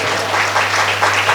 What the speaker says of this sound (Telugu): చప్పట్లు కొట్టి స్తోత్రం చెప్తాం